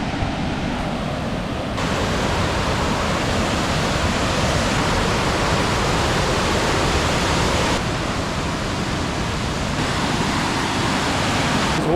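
Waterfall and rushing rapids beside a quiet solo night campsite, a steady loud broadband roar of crashing water that fills all twelve seconds without a break.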